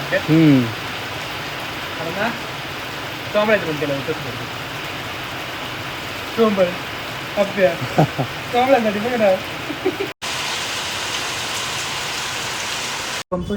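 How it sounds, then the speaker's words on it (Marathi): Steady rain hisses throughout while people talk intermittently over it, the downpour constant and close. "नाही नाही म्हणता पाऊस चांगलाच यायला सुरुवात झाली"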